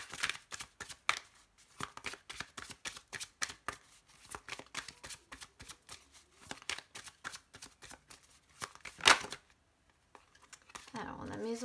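Oracle cards are shuffled and cut for a tarot-style reading, giving rapid rhythmic riffling flicks that run for several seconds, a pause, then a sharp snap and a short soft rustle of cards.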